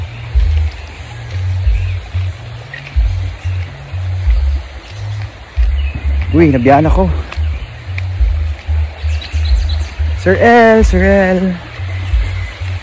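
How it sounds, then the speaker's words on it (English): A river flows in a steady outdoor rush, with a low rumbling undertone throughout, while birds give two brief bursts of warbling chirps partway through, nearby and clear over the water. "I will let you hear the nature, the river,"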